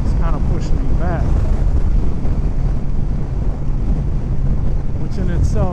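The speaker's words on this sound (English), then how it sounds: "It seems like I've got a headwind." A strong headwind roars across the microphone while riding a Honda Valkyrie motorcycle, a dense continuous buffeting rumble with a faint higher whistle now and then, loud and unbroken throughout.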